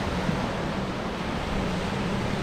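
Sea surf at Cha-Am Beach in Phetchaburi, Thailand, a continuous loud wash of breaking waves blended with wind rumble on the microphone, no voices.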